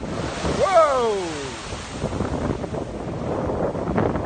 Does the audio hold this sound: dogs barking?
no